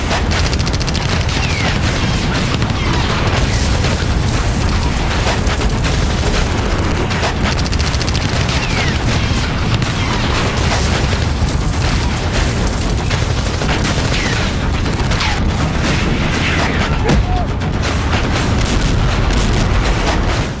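Continuous dense battlefield din in the Nagorno-Karabakh war, with rolling explosions and weapons fire blending into a loud, unbroken roar that stays steady for the whole stretch without any distinct pauses.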